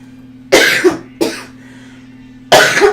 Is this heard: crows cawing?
no